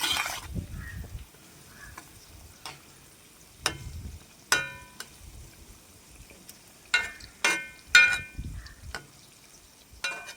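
Sliced onion and green chillies fry in oil for a chicken gizzard dry fry, a faint sizzle broken by repeated sharp clinks and scrapes of a ladle against the pan. Close and intermittent, with no talking.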